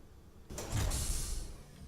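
A large hangar door in the Space Engineers video game opens with a sudden heavy mechanical whoosh and rumbling slide lasting over a second, fairly loud and alone.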